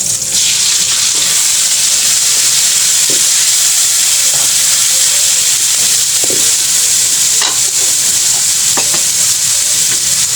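Tomatoes sauté in a hot pan for ginisang sardinas with ampalaya, giving a steady close sizzle and hiss that runs the whole time, broken by a few scraping stirs of the utensil and soft clinks.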